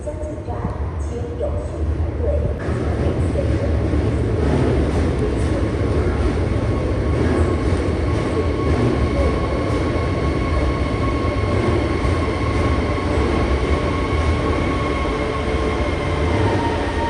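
A metro train at a subway station in China, its low rumble and wheel noise droning steadily throughout, with faint squeals and a rising whine as it sits and moves, and no speech over it.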